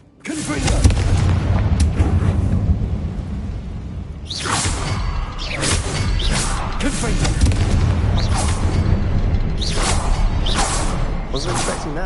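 Repeated booming spell blasts in Hogwarts Legacy, several loud bursts with whooshing tails spread across the scene, ringing out over continuous game ambience.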